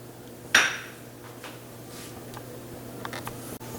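A skillet set down on a stovetop burner at medium-high heat: one sharp metallic clank up close, then low steady kitchen hum with a few faint small knocks and no talk.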